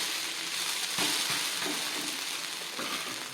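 Sago dosa sizzling steadily in oil on a hot pan, with a brief scrape and shift as it is flipped partway through, frying continuing loudly and evenly throughout.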